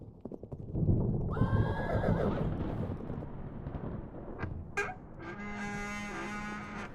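Four horses pulling a calèche on a mountain pass neigh and whinny loudly while hooves clop nearby, with repeated shrill calls standing out clearly against the rumbling movement of the carriage.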